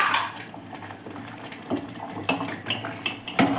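A spoon scrapes and clinks around a pot of sakkarai pongal cooked with ghee and cardamom, close and fairly loud. Irregular metallic scrapes and taps keep coming, with no voices.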